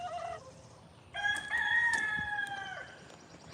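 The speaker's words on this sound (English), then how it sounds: "Oh yeah, it's a chicken." Rooster crowing at a farm animal sanctuary, one clear drawn-out cock-a-doodle-doo rising and holding before trailing off, close and prominent after a brief earlier call.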